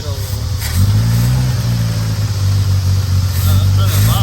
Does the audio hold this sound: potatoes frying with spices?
no